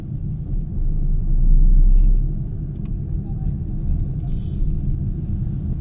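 A manual petrol car's engine hums and rumbles steadily while driving on the road, loud and close with a low continuous drone that swells briefly, and a voice talks faintly over it.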